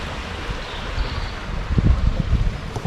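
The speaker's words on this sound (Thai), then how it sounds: "ด้านหลังร้านนะครับก็จะติดกับแม่น้ำอย่างเพลิน มีน้ำตกเล็ก" A river with a small waterfall flows behind a shop, giving a steady, close wash of rushing water with wind buffeting the microphone, growing a little louder and rougher in the second half.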